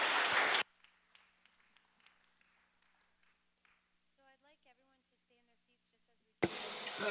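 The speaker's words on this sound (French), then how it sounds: "aux gens du panel, une bonne main d'applaudissements" Audience applause for a panel at a conference session, a loud burst of clapping at the start that stops abruptly. Quiet murmuring and speech follow before a second loud burst of clapping at the end.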